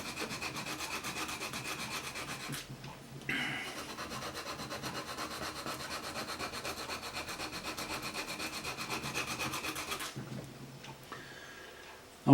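A reed being sanded during voicing: steady, fairly quiet back-and-forth rubbing strokes in an even rhythm, with a brief handling knock partway through and a sharper bump at the end.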